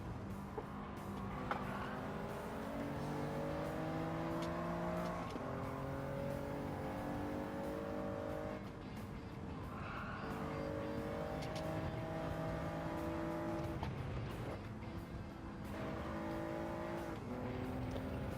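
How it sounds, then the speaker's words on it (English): Toyota Yaris inline-3 engine on racing soft tires in Gran Turismo 7, revving hard through repeated climbing gear pulls with brief dips between shifts, loud and close for the whole stretch. "So this Yaris has an inline 3 engine."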